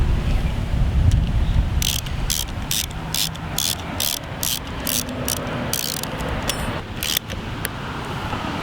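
Ratchet wrench tightening the nut on a Boosted Board electric skateboard wheel, a regular series of sharp metallic clicks over a low rumbling background, close by.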